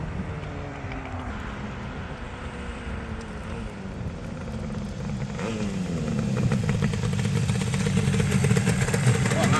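A 1978 Yamaha RD400 two-stroke motorcycle engine runs steadily nearby, its raspy drone rising and thickening partway through as revs climb, with faint talk in the background.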